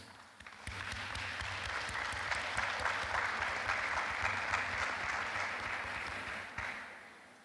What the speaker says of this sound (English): Students, please join me in a round of applause for your family and friends.